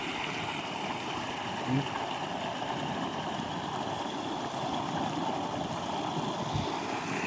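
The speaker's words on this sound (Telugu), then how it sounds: "సో రెండు మోటార్ల పైపు వాటర్ అంతా పోతుంది చూడండి" Water gushing steadily from the pipes of two dewatering motor pumps at a flooded construction site after heavy rain, a continuous broad rushing roar with no pauses, close and loud throughout.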